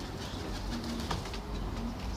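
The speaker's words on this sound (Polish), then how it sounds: "Czyli gołębie przeleciały." Homing pigeons coo softly against a constant wash of outdoor noise, with a brief flutter partway through.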